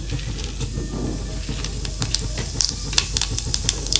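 Whole cumin and fennel seeds sizzle in a hot pan while a chili pickle is being cooked: a steady, close hiss with scattered sharp crackles and pops throughout.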